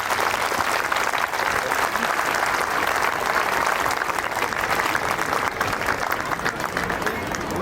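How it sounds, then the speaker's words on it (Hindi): Steady, dense clapping from an audience at a school prize distribution ceremony at Ramana Public School in Raipur, loud and continuous throughout with a faint murmur of voices underneath. "एक बार उसके लिए भी ताली बजा दो।"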